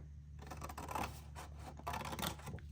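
Scissors snip through tissue paper while making coin envelopes for a junk journal, a run of close, soft crisp cuts and rustles in a quiet room.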